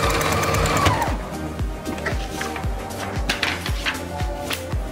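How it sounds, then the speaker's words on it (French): Sewing machine stitching a label onto a jacket piece, a steady close run of rhythmic needle thumps lasting several seconds. "vous cousez le long des deux petits côtés"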